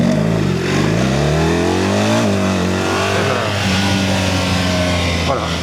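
A BMW R 1300 RT touring motorcycle accelerates hard, its engine note climbing steadily through two pulls with a brief dip between, loud and continuous.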